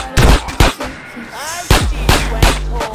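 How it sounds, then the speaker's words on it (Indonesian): Shotgun blasts in GTA San Andreas Definitive Edition on mobile, five or six loud, booming shots spaced roughly half a second apart, close and punchy, with faint game effects between them. "Shotgun."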